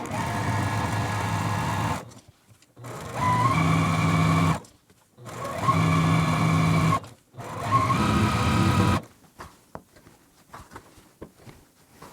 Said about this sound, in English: And we're going to sew right on this line.